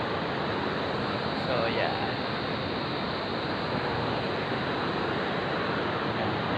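Sea surf at Timalan Concepcion beach in Naic, Cavite rolls as a steady, broad wash of breaking waves mixed with wind, with someone briefly talking over it.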